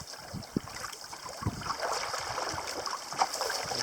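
Small wind-driven waves and a few breaking whitecaps slap against a canoe on an open, unsheltered lake, giving a steady rough wash with irregular louder splashes near the hull and wind noise throughout.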